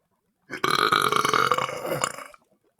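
A long, loud, deliberate burp from someone, about two seconds of sustained croaking belch close to the mic, preceded and followed by silence.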